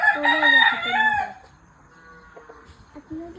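A rooster crows once loudly and close by, a long, bright call, then gives way to softer low clucking and scattered farmyard noise.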